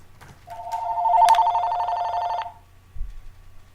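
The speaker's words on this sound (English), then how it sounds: "Oh, there goes my phone ringing," A telephone rings indoors in one steady, bright electronic ring lasting about two seconds, close and loud, followed by a brief low thump, with no talk over it.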